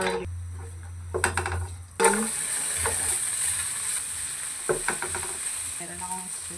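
Garlic frying in a pan with a steady sizzle, broken by loud stirring scrapes and clinks of a utensil at the start and again near the end.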